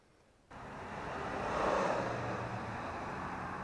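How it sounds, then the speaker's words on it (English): Road traffic noise swells up after a brief quiet start, a broad steady whoosh like a vehicle passing nearby, then settles into a continuous rushing hum. "Pardon the road noise."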